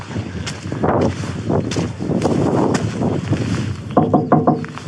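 Gusty wind buffeting the microphone in rumbling surges, with some brief clatter toward the end; no talking.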